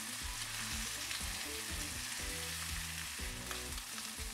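Egg and rice for special fried rice stir-fried in a wok, a loud, steady sizzle with repeated scraping stirs, close up and with no talking.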